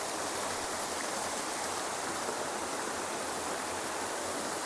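Fast, steady rush of fountain water at Hazratbal shrine in Srinagar, a dense broadband hiss that holds constant throughout with no voices.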